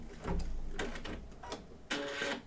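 Embroidery sewing machine stitching a patchwork pet quilt block, short mechanical whirring bursts with clicks and a final trimming snip-like rasp, close and alone.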